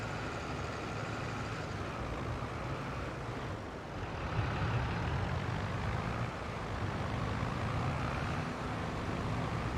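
A JCB vehicle with all-wheel steering drives across a field in Farming Simulator 22, its engine giving a steady, continuous drone that swells slightly midway, with no talk over it.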